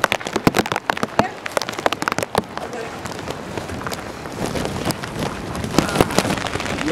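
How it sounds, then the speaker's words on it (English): Heavy rain pours onto a rooftop, a dense crackling patter of drops hitting the surface, with sharp close impacts early that settle into a steady wash of rain. "it's pouring rain right now"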